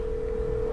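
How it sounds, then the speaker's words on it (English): A phone line gives a continuous, steady call tone right after a voice-assistant call request, one unbroken electronic hum held at an even level throughout. "Hey Siri, call Keisha."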